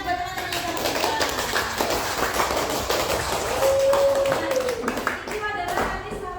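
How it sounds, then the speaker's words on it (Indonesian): A classroom of students claps for classmates, with dense, steady applause that runs throughout and voices talking over it. "tepuk tangan buat teman-teman yang sama kita"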